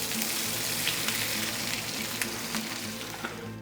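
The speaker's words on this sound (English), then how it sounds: "Now we're going to heat up our gyros." Gyros meat sizzles and fries steadily in a decades-old non-stick pan, a loud, dense, continuous crackle close up with occasional sharper pops and no talk.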